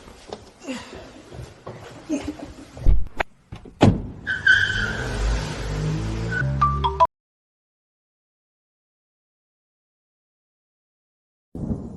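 A car in a kidnapping scene, with engine noise, a door and rushed movement under brief voices and scuffling, rising to a sustained roar of driving off before sudden silence.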